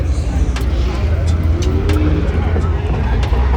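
At the Fuel Fest 2024 car show, a car engine with a loud exhaust rumbles and revs steadily nearby while people talk over it.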